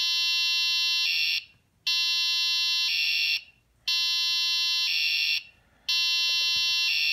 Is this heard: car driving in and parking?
no